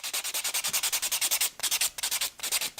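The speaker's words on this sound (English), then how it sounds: "then once you're happy with that, we're going to go over it with our block buffer" Rapid rhythmic scratchy rubbing of a block buffer across an acrylic nail, close and steady strokes with a few brief pauses, no voices.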